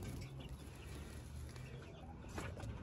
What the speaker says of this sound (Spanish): Déjenme sacar a la gallina para mostrarle a todos los pollitos